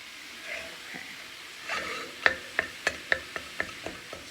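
Ground meat, onion and pepper cooking together in a pot for chili corn soup, a soft sizzle underneath a series of sharp metallic scrapes and taps as a utensil stirs, about eight strokes in a quick, fairly even rhythm.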